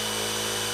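A power drill spins up to higher speed as the bit drops into the workpiece, with a wisp of smoke and only the machine's own weight behind it; a steady, close motor whine fills the brief moment, with no talk.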